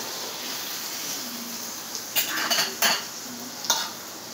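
Egg and yogurt dish being served out of a pan: a soft frying hiss runs underneath while a spoon scrapes and clinks against the metal in a few quick bursts, no voices.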